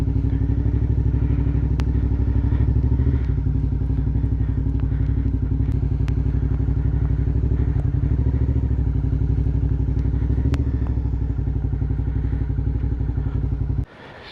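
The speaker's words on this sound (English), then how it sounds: "I'm going to take my bike down to next to where my tent's going to be." A Suzuki V-Strom 650 motorcycle is ridden slowly across a campsite in the Galloway Forest Park, its engine putting out a loud, steady, low throbbing rumble with occasional clicks and knocks, cutting off abruptly at the end.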